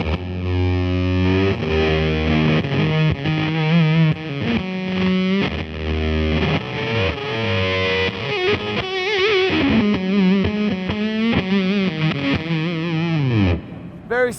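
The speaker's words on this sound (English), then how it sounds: "it's going to get all spitty, 60s kind of psychedelic" An electric guitar runs through an MXR-Dunlop pedal set for spitty, 60s-style psychedelic distortion, playing a loud, fuzzy, sputtering riff with bent and sliding notes that continues throughout.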